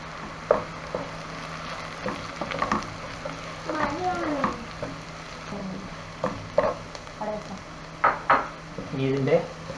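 Chili flakes sautéing in a pan for a chicken dish, a low sizzle under clinks and scrapes of a spoon stirring, while a person talks over it.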